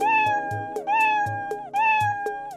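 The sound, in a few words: Scratch cat meow sound effect played in a coding program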